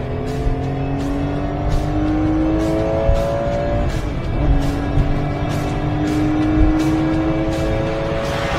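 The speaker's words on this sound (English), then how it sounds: "Downshift and let her rip and we'll get you even closer." A Singer-modified Porsche 911 engine revs hard after a downshift, its pitch climbing in repeated sweeps over a steady, loud roar, with no voices.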